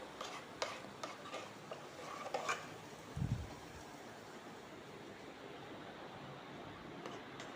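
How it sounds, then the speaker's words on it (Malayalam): A vegetable kurma mix is stirred into curry in a pan for breakfast, giving soft, faint scraping and swishing strokes with a few light ticks and one low thump in the middle. "ഈ മിക്സും നമുക്ക് അതിലേക്ക് ചേർത്ത് ഇളക്കി കൊടുക്കാം"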